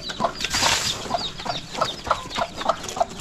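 A mother hen clucks repeatedly near her chicks in a backyard, short rhythmic clucks spaced about a third of a second apart over faint background noise and a brief flutter.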